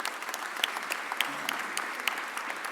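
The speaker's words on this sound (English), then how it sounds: "let's give our Mayor Sherelle Parker a real big round of applause for" An audience at a Philadelphia mayoral press conference applauds Mayor Cherelle Parker with steady, moderately distant clapping and a few sharper claps standing out, with faint voices underneath.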